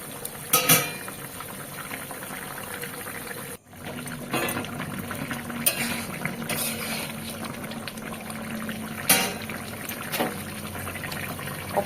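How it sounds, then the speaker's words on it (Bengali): Pabda fish curry gravy bubbles at a steady boil in a pan, a close continuous simmering hiss broken by a few clinks of a utensil. "সুন্দর ঝোলগুলো ফুটছে ওপর"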